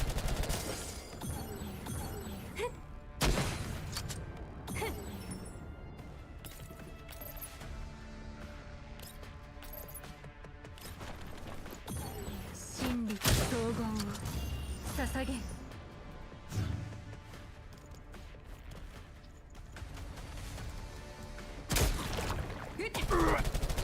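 Gunshots and bursts of gunfire go off in Girls' Frontline 2: Exilium, sharp cracks scattered irregularly over a busy game soundtrack.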